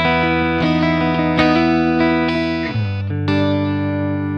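A Yamaha Pacifica 510V electric guitar on its neck pickup rings out in a dry direct signal, a run of sustained clean notes and chords plucked one after another, close and loud with no other sound.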